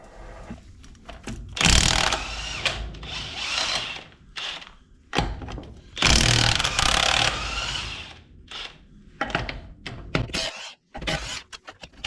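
Wheels being taken off a 7-ton trailer with a power tool, loud bursts of impact-wrench rattling and grinding separated by short pauses, close by with no talking.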